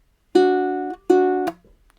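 Two ukulele notes plucked together with index and middle finger, ringing twice in quick succession then cut short by a muted touch, close and clean with no talk.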